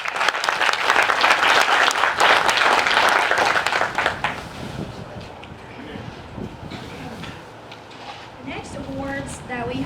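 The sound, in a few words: audience applause at awards ceremony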